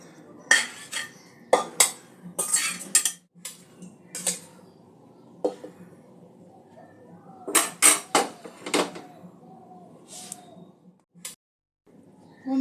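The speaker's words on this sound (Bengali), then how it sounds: "এঁচড়টা এই অবস্থায় আমি একটা পাত্রে তুলে নেব।" Boiled jackfruit being moved into a bowl, clustered clinks and scrapes of a spoon against metal pots in bursts separated by quiet pauses, close and fairly loud.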